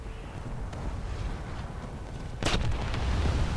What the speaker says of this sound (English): the first press of the left mouse button fires the main caliber guns